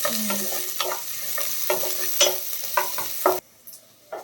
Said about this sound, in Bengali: পেঁয়াজ রসুন লঙ্কাটা হালকা হালকা ফ্রাই হয়ে গেছে, হালকা ব্রাউনিশ হয়ে গেছে।